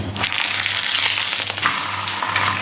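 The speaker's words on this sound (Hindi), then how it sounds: "अब इसे थोड़ा गर्म होने देंगे और ये साइडों पे घी लगा देंगे" Chicken paratha frying in ghee on a hot tawa, giving a steady, loud, close sizzle that holds evenly throughout with no talk.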